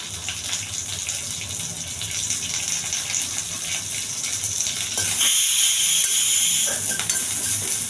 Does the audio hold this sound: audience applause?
no